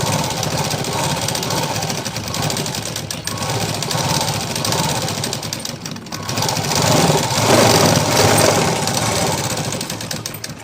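A sewing machine top stitching a fabric piece, running in a continuous fast mechanical whir and rattle at close range for the whole stretch, slightly louder toward the end.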